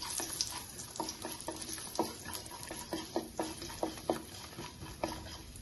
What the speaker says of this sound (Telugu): ఇప్పుడు వచ్చేసి ఇదిగో ఎండు కొబ్బరి అండి, ఎండు కొబ్బరి వేసాను